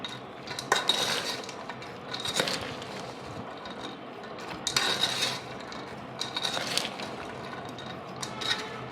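Chickpeas and fenugreek seeds stirred in a pot with turmeric, giving bursts of clinking and scraping against the metal that come in waves with quieter gaps between, fairly close and with no talking.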